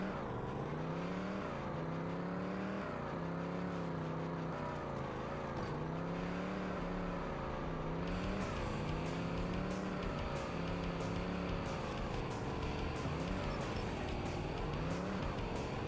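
Race car engines drone and rev continuously in TNN Motorsports Hardcore TR, a hotrod championship race on snow, with a steady tonal whine rising and falling as the car shifts, loud and close throughout.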